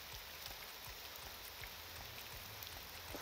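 Steady rain falls in the video game Morrowind, a soft, even hiss with faint scattered drops, quiet and continuous with no voices.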